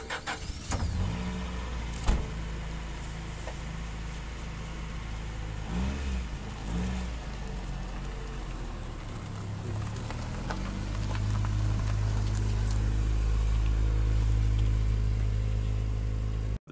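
Honda Integra DC2 engine running after starting, a steady low idle with a few small blips and clicks, then a louder, fuller hum settling in during the last few seconds.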